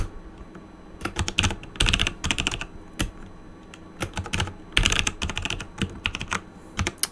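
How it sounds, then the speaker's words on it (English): Someone types a password on a computer keyboard, with close, crisp keystrokes arriving in irregular bursts and short pauses between them. "Would help if I were to type that in correctly though."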